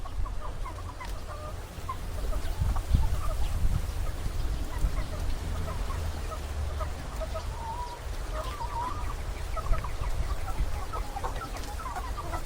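A flock of hungry chickens clucks and murmurs continuously, many short overlapping calls close by over a low farmyard rumble, with an occasional louder squawk and no one speaking.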